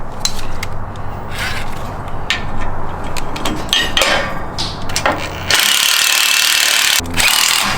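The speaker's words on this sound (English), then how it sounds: "And then we'll grab an Allen wrench and tighten that down." An Allen wrench tightens a bolt on a Factor55 fairlead mounted to a 4Runner, giving close metallic rubbing and clicking with bursts of loud scraping and ratcheting-like noise, heard alone with no speech.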